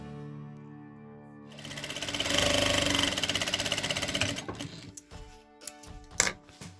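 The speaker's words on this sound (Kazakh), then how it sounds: "Ал енді мен қазір мына жерге поясын тігіп шығамын, бірінші." A sewing machine stitches a waistband onto a garment, its motor speeding up into a rapid, steady mechanical chatter, then slowing to scattered clicks and thumps as the work stops, close and loud with no speech.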